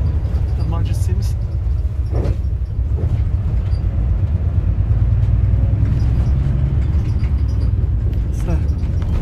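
A city bus rumbles through traffic, heard from inside the cabin as a steady low engine and road drone with occasional brief clatters and a voice talking over it.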